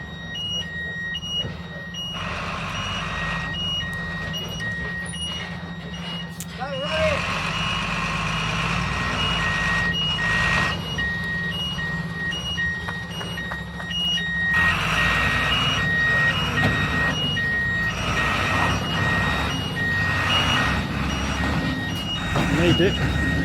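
A bus reversing in Copacabana, Bolivia, its backup alarm sounding repeated evenly spaced beeps over a rumbling idling engine, with people talking nearby and street noise around.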